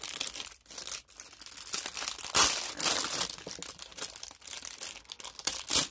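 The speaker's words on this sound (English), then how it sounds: "Excuse the crinkles." Plastic packaging around a Craft Kitsune resin mold crinkles and crackles in close, irregular bursts, loud and uneven, with no talking.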